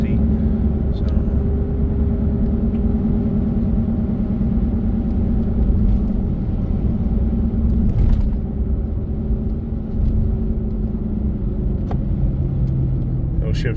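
Steady car engine and road rumble from inside a vehicle whose automatic transmission is falling into limp mode once warmed up, a constant drone with slight pitch changes as gears shift and faint ticks over it.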